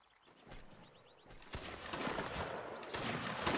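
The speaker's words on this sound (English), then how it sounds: "Hold on my left, start firing." Musket volleys ring out in Mount & Blade: Napoleonic Wars, several sharp gunshots cracking in irregular bursts that build in density and loudness, with distant battlefield noise between them.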